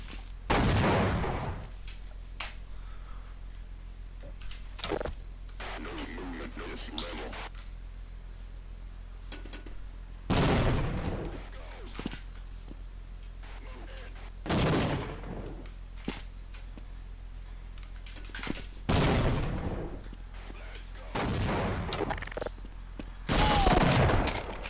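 Gunfire and grenade launches in a video game, heard as repeated loud bursts of shots and blasts at irregular intervals, several separate volleys spread across the span over a steady low background hum.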